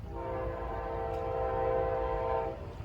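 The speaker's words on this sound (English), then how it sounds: "got Amtrak PO66 to end off the day" An Amtrak passenger train at CP 42.9 on the CSX Peninsula Subdivision sounds a loud, sustained horn chord over rumbling rail noise, holding for about two and a half seconds before fading.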